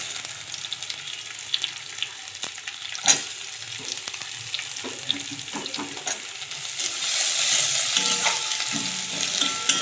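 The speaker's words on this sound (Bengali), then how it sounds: "রসুন পেঁয়াজ একসঙ্গে আমি লাল করব।" Garlic paste and onions fry in a pan, a close, continuous sizzle broken by scraping stirs and clatters, swelling into a louder hiss toward the end, with no talking.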